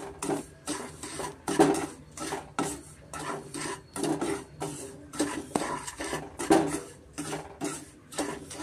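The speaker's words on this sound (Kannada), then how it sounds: "ರಾಗಿ ಹಿಟ್ಟನ್ನು ಇದ್ರ ಜೊತೆ ರವೆ ಜೊತೆ ನಾನು ಮಿಕ್ಸ್ ಮಾಡ್ಕೊತೀನಿ." Ragi flour and semolina are stirred together in a pan with a spoon, making rhythmic scraping and rasping strokes against the metal, repeated about a dozen times at a steady pace, close and moderately loud, with no voices.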